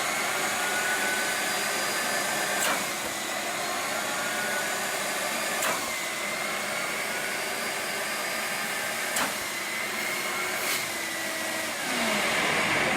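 A Bona DCS70 dust extractor runs steadily with a hand held over its intake, giving a continuous loud motor roar and whine with a few faint clicks throughout.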